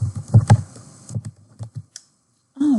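Computer keyboard typed in short bursts of key clicks, close and fairly soft, with brief pauses between runs and a faint voice starting at the end.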